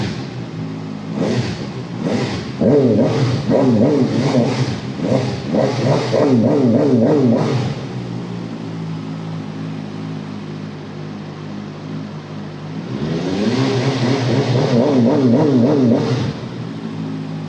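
VOGE RR 500S inline-four sportbike engine revved in two bursts against its rev limiter, each a loud, close, stuttering buzz held for several seconds, with a steady idle between the bursts.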